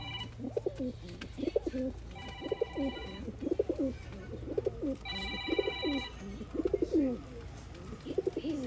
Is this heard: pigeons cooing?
yes